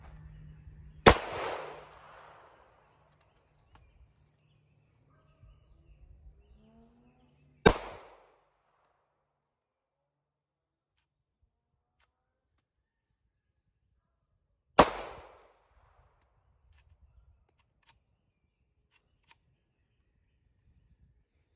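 A dirty Hi-Point pistol caked in dirt and mud fires three sharp, loud shots spaced roughly seven seconds apart outdoors, each crack alone with quiet gaps and faint rustling between.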